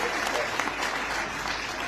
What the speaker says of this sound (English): I want you to give Peace Marbe a hand of applause because she worked harder than me for this t